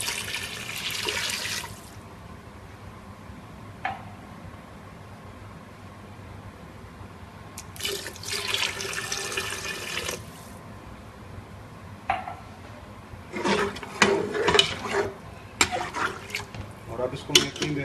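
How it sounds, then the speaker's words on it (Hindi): Water pours into a cooking pot for peas pulao in several bursts of hissing splash separated by quieter stretches, close by, with someone talking over parts of it. "तो मैं अभी इसमें 1 लीटर पानी शामिल करूँगा।"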